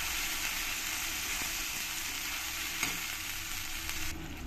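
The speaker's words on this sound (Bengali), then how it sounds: "আর এর মধ্যেই দিয়ে দেবো আমি টমেটো পেস্ট, দিয়ে ভালো করে একসঙ্গে কষিয়ে নিতে হবে।" Spice paste and tomato paste fry in oil with a steady, loud broadband sizzle throughout, a faint stir or scrape now and then and no talking.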